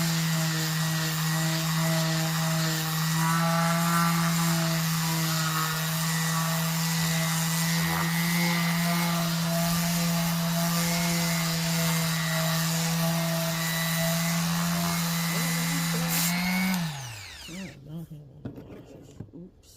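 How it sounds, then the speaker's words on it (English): New handheld electric sander resurfacing wood runs loud and close with a steady high whine and rough grinding, then winds down and cuts out near the end, leaving a few faint clatters. "I noticed my sander act like it didn't want to power on, but eventually it came back on and I got back going"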